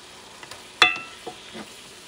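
Ground meat frying in a pan is stirred with a utensil, a faint sizzle broken by a sharp metallic scrape and a few soft knocks, close and quiet with no talking.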